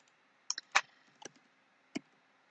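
A few scattered clicks from computer keyboard keys, about five quick presses spread out with gaps between them, fairly quiet and close, with no talking.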